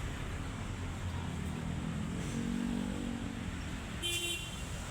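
A Metro Jabar Trans Koridor 2 city bus arrives at a stop in Bandung, its engine rumbling over steady street noise, with a brief tonal horn-like toot near the end.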